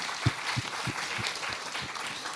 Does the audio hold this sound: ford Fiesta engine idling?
no